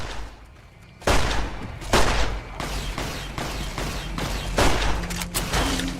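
Loud, repeated rifle gunfire from a ranger in Fallout: New Vegas, with heavy shots landing about every half second to second over a rumbling game soundscape.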